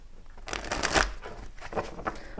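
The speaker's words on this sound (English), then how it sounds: "Let's get a good shuffle here." Tarot cards shuffled by hand in quick riffling bursts of papery flutter and slaps, close and fairly quiet, with no talking.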